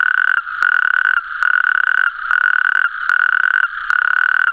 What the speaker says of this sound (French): Là on est dans des mares où il y a plein de crapauds calamites, on les entend, qui sont en pleine période de reproduction